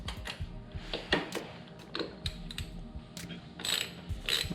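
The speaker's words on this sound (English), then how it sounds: "this is where you will use your T25 torch on the top and your 10mm wrench on the bottom here" A T25 Torx driver and a 10mm wrench loosen the brake or clutch lever bolt on a 2016 BMW S1000RR motorcycle, giving quiet, repeated ratcheting clicks and light metallic taps.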